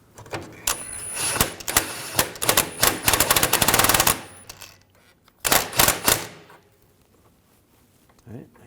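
A wrench ratcheting down a nut on the cammed washer of a 2007-2013 BMW 328i rear control arm, long bursts of fast metallic clicks, close, then a pause and a shorter run, then near silence.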